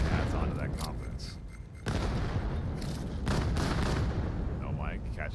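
Grenade blasts and gunfire in the VR shooter VAIL during a competitive match, heavy booming bursts and crackling shots that fill the clip, with faint voices underneath.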